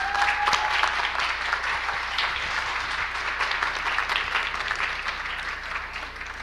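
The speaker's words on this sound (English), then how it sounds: "Please join me to give them a round of applause." An audience at a Taiwanese women's cultural night breaks into sustained applause, a steady wash of clapping from a large crowd with a brief tone at the start.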